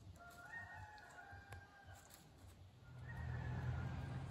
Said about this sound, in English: The neighbor's got a rooster and he hasn't shut up yet.